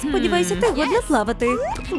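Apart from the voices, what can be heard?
No everyday noises stand out.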